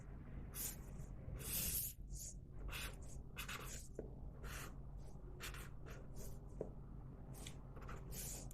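Repeated scratchy strokes of a pen or marker drawing a structural-analysis beam diagram on a board during an engineering lecture, coming in short bursts of varying length with brief pauses between them, close and fairly quiet, with no talking.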